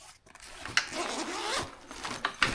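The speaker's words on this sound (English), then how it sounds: "The zippers are really nice." Zippers opened and closed on a waterproof ATV cover, a few close rasping pulls with short sharp catches, fairly quiet and without talk.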